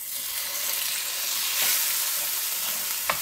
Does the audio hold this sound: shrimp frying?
yes